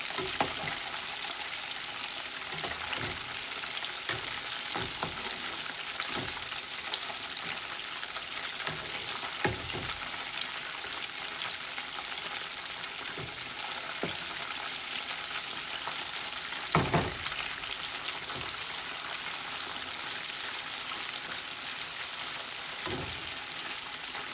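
Mac and three-cheese balls deep fry in hot oil, a steady, even bubbling sizzle like light rain, with scattered louder pops and knocks and no talking.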